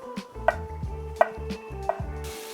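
A knife slices through a green pepper on a cutting board, three crisp chops with a pause between each, close up with a frying pan faintly sizzling behind.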